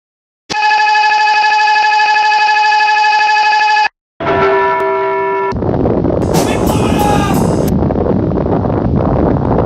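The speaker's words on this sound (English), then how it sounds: "I think your phone is ringing" A phone rings loudly with a steady electronic ringtone for several seconds, then after a brief gap a different tonal ring pattern gives way to a broad, noisy rumble.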